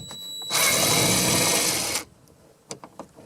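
A power screwdriver spins out hinge screws on the rear door of a Ford Super Cab pickup, a loud steady whir lasting about a second and a half, followed by a few faint clicks of handling.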